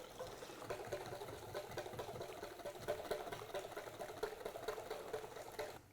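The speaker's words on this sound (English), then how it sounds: "So just give that a really good whisk up." Egg mixture for tiramisu is whisked with a fast, steady rattling swish, quiet and continuous with no voices.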